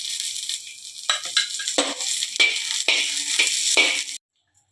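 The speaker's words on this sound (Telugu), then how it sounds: "కావలసినన్ని పచ్చిమిరపకాయలు తీసుకొని కొద్దిగా నూనె వేసి వేయించుకోండి." Green chillies frying in a little oil in a pan, with a steady bright sizzle broken by stirring scrapes and clatter, loud and close, cutting off abruptly near the end.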